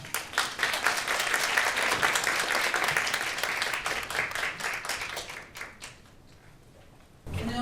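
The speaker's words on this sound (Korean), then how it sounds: "큰 박수로 모시겠습니다" Audience claps to welcome the first presenter at a Korean academic forum, dense applause that thins out and fades to near quiet before a sudden sound returns at the end.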